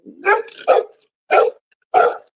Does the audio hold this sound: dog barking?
yes